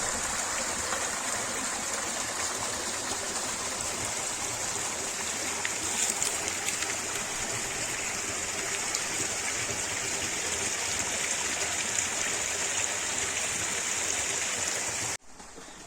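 Continuous rushing water from a small forest waterfall and flowing village stream, a steady broadband splash and gurgle with no talking, constant level throughout.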